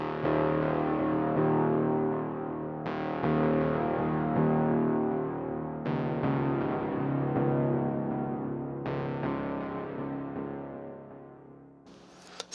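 Sparse synth tones strike every few seconds and ring out into long reverberant tails with echoing repeats, loud and spacious, no voices.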